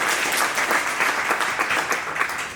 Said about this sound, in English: please give a great round of applause to Nav.